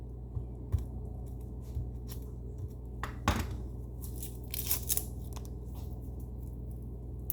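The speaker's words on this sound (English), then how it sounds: "They're gonna chop up an onion." An onion is chopped in a home kitchen while ground beef is cooked, with a few sparse, crisp knife strikes and cutting rustles over a low background hum.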